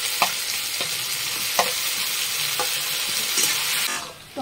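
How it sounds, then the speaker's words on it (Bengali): Potatoes and chopped onions frying in a pan, a steady close sizzle broken by several sharp scraping stirs of the spoon, with no talk. "তো আলু পেঁয়াজ আমি একটু লাল লাল করে ভেজে নিয়েছি"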